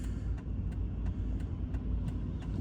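Road traffic at an intersection in Australia, a continuous low rumble of passing cars and engines, moderately quiet, with faint regular ticking over it.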